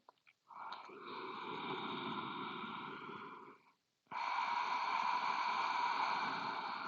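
Steady ujjayi yoga breaths drawn through a constricted throat, a long ocean-like rush, a short pause, then another sustained hiss, close and fairly loud.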